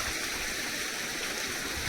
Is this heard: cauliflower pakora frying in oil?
no